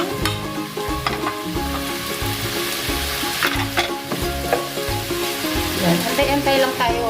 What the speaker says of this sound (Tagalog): Kasi gisa natin siya dun sa sibuyas, bawang, tsaka yung luya.